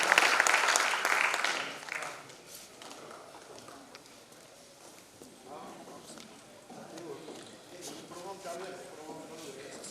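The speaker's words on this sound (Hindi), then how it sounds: "एक बार जोरदार तालियां" An audience claps loudly at the inauguration of a Bihar cultural festival in Patna, the applause strongest at the start and then fading into a quieter crowd murmur, with a voice over a public address system in the background.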